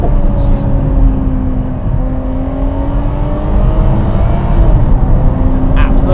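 Ferrari 599 GTO engine revving on the road from inside the car, a loud sustained climbing drone with rising pitch through the gears, mixed with wind noise from an open window and a voice talking over it.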